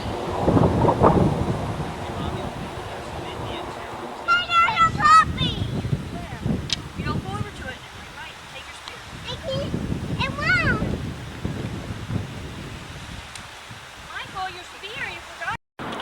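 Strong wind buffets the microphone in heavy gusts with a roaring rumble beside the South Dakota sign, while people talk intermittently underneath.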